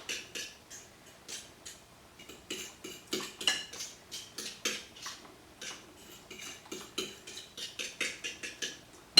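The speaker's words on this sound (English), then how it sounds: "just take the egg and buttermilk and just stir it up real good" Rhythmic clinking of a utensil against a bowl while egg and buttermilk are stirred, a steady run of bright taps that speeds up and slows, up close and alone.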